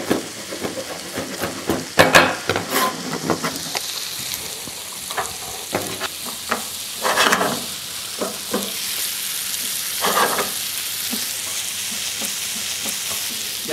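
Vegetables and garlic stew in a frying pan with a soft steady sizzle, while a utensil scrapes and clatters against the pan in irregular strokes as it stirs.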